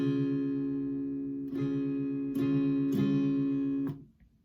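The distorted electric guitar final chord rings out, restruck a few times, then fades away near the end.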